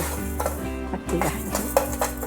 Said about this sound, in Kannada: ನೆಕ್ಸ್ಟ್ ಅಕ್ಕಿ ಹುರ್ಕೊಳ್ತೀನಿ.